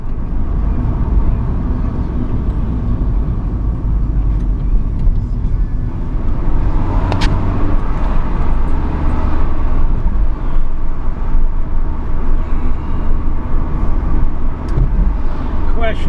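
Steady low rumble of a car driving, heard from inside the cabin, with continuous road and engine noise throughout and no clear talk over it.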